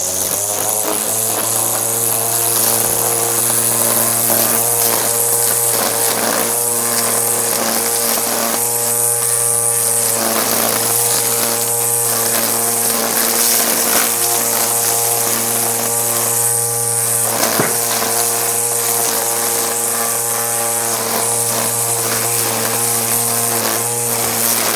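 An Ozito 36V battery line trimmer cuts grass with a loud, constant whining buzz. The motor holds a steady pitch for about 25 seconds and never bogs down, with no talking.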